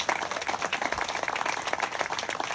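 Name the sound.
audience applause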